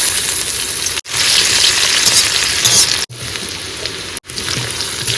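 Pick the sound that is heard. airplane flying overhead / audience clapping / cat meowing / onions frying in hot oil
onions frying in hot oil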